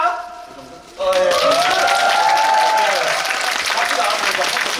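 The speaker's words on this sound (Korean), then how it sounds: "박수" A theater audience at a post-show talk for a musical breaks into applause after a quiet moment, a sudden loud wave of many clapping hands that stays dense and steady, with a faint sustained tone lingering underneath at first.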